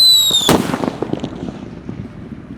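A Pearl Thunder firework cake launches: a whistling rise gives way to a sharp bang, followed by a quick crackling string of smaller pops fading out over two seconds.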